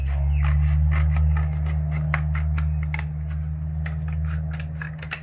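A cardboard box being cut for a model house: rapid, close scraping and snipping strokes in an irregular rhythm over a steady low hum, no talking.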